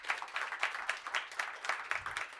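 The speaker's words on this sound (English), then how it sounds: "let's give another round of applause for the audience" Audience applause at the close of a talk at a systems programming and distributed systems event: faint, steady clapping with a loose, pulsing rhythm throughout, with no voices over it.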